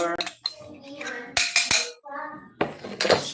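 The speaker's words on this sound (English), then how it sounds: "Gonna go ahead and take that and mix it into your banana and your" Banana and sugar mixture being stirred in a bowl for banana bread, with a utensil clinking and scraping against the bowl in a few distinct bursts among short quiet gaps.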